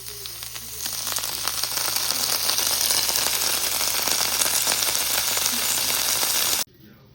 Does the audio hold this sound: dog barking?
no